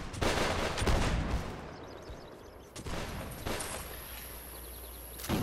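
Musket volley fire in the Mount and Blade Warband multiplayer game, a ragged burst of overlapping gunshots opening the clip, then scattered single shots and distant firing across the battlefield.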